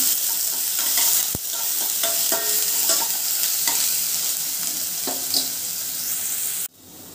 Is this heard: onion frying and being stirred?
yes